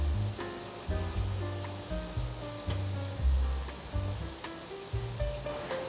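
Lotus root and avocado fry gently in a pan, a soft steady sizzle running underneath a quiet melodic background tune, no talk heard.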